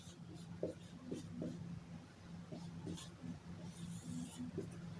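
Chalk or marker writing words on a classroom board, a run of short scratchy strokes repeated through the clip over a steady low hum of the room.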